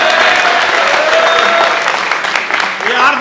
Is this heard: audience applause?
yes